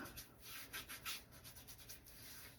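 Fingers rub mustache oil into beard hairs close to the microphone, a soft, quiet, rhythmic brushing scratch repeated in quick strokes.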